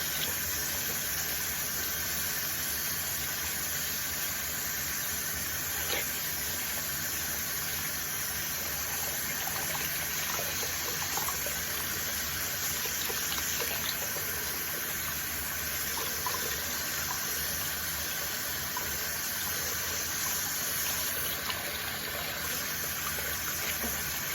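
Tap water runs steadily into a sink for about 24 seconds while it warms up, a continuous even rush with no speech.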